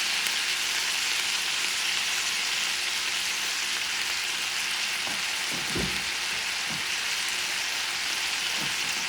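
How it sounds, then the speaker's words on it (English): Tomatoes, peppers and basil leaves cook in a pan with a steady, even sizzle and faint crackle, joined briefly by a few soft stirring knocks near the middle; no one speaks. "let this cook until the tomatoes and the peppers are soft"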